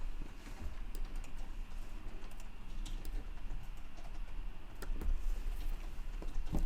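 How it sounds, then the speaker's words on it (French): Typing on a computer keyboard while entering text into a text layer in an image editor, a steady, fairly faint patter of key taps with a few louder clicks, alone without talk. "je tape le texte que je veux"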